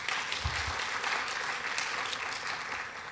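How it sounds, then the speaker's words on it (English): Steady round of applause from a dinner audience at an awards dinner, dense and even throughout, moderately near with no one speaking over it. "That deserves another round of applause."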